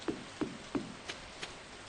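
Rain in the farming video game Stardew Valley, a few sparse, evenly spaced drip ticks over a soft steady hiss of falling rain, fairly quiet, with no talking.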